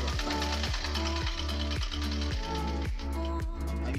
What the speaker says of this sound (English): the rough edge, and you start stitching